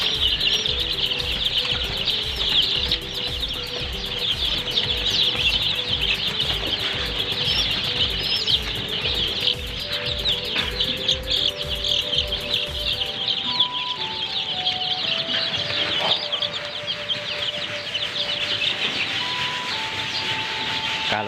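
Ten-day-old chicks chirping constantly as a dense, high, overlapping peeping chorus close by, with a low rhythmic mechanical thumping underneath that stops partway, leaving the chirps alone.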